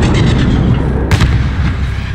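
A flare launcher fires from a rooftop in Call of Duty: Modern Warfare, a loud, sharp burst that cuts through dense, continuous combat noise, up close and heavy.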